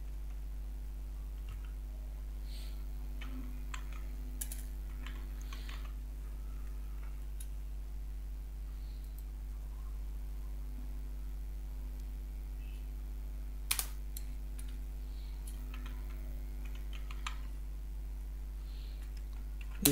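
Sparse, quiet keystrokes tap on a computer keyboard during Python programming, with scattered single clicks over a steady low hum and one sharper burst of typing partway through.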